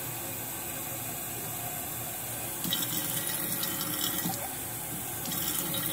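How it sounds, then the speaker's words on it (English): Tap water runs steadily from a sink faucet into a glass, a continuous hissing splash that grows slightly louder partway through, heard up close with no talking. "I'm gonna put some tap water in here."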